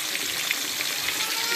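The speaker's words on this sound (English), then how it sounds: "let's fry this now. Okay, fry the fish." Fish fried in hot oil for a spicy tenggiri sambal dish gives a steady, close, dense sizzle with small crackling pops throughout, no talking.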